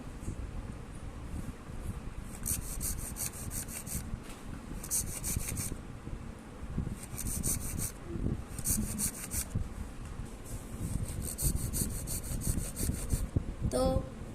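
The hard shell of a wood apple is rubbed and scraped by hand in steady repeated strokes, a close, rasping sound that comes in several bursts with short pauses between.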